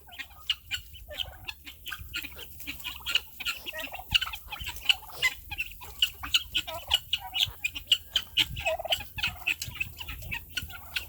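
A turkey on a Texas farm gobbles and clucks repeatedly in rapid, rhythmic bursts, close and clear, with other fowl calls mixed in throughout.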